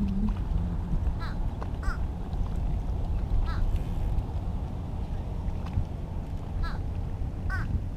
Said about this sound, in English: crows are messing with my bait food